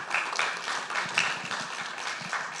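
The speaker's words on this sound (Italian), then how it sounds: "Applauso meritatissimo." Applause from a conference audience, a steady broadband patter of clapping that holds evenly throughout, moderately distant and somewhat faint, with no clear voices over it.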